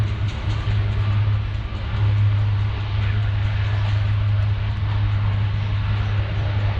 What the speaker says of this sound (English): this is about as much noise as this airplane's ever going to make